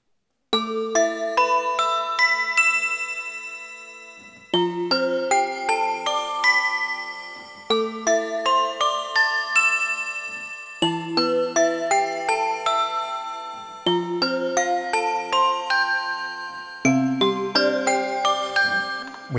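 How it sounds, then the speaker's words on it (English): A bright, metallic bell-like tone from the Roland D-50 synthesizer's Gamelan Bell factory patch plays a sequence of ringing notes with shimmering overtones, each phrase decaying before the next begins. "This one is called Gamelan Bell."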